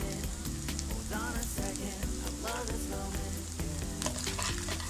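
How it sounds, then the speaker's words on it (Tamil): Vegetables and green chilli frying in oil for egg noodles, a loud, continuous crackling sizzle close by with scattered pops and stirring scrapes throughout. "இந்த வெஜிடபிள்ஸ் நல்லா அந்த ஆயிலில் ஃப்ரை ஆகணும்"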